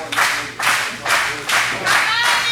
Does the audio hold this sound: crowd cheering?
yes